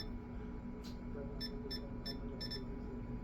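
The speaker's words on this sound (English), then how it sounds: "it beeps at you and laughs at you because it can't add" An auto edging machine beeps after a wrong size entry, a short series of four or five quick electronic beeps over a quiet room hum, with one brief blip just before them.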